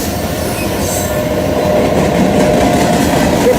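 A long cargo train rolls past close by, loud and steady, with a continuous rumble and faint squealing wheels throughout.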